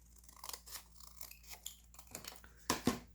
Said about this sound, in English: So I think I will cut my little triangle here.